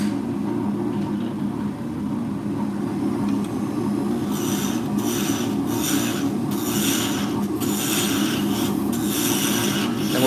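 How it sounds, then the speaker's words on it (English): A power drill whirs steadily, boring to a depth marked with tape, with rasping, grinding bursts growing louder and more frequent in the second half. "I have a piece of tape here to tell me when to stop drilling."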